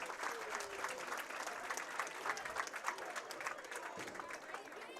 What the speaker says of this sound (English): Let's give a round of applause for all of our hosts and sponsors this weekend.